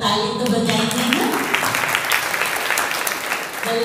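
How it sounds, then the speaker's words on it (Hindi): An audience at a Brahma Kumaris spiritual gathering breaks into steady, dense applause during a welcome ceremony, with a voice briefly audible over the clapping near the start. "सब लोग ताली तो बजाएंगे ना"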